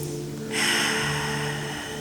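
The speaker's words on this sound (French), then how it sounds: "Prenez une grande inspire par le nez et puis une grande expire par la bouche." One slow breath is drawn deeply in through the nose and then let out through the mouth, close and soft, during a calm yin yoga session for the hips, with steady low tones sounding beneath it.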